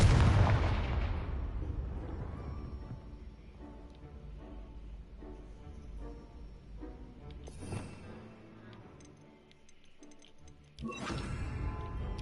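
Confringo blasting spell explosions in Hogwarts Legacy: a loud burst at the start that fades into rumbling debris, followed by a sharper crack and another blast near the end, with no talking.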